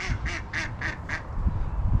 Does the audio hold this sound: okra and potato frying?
no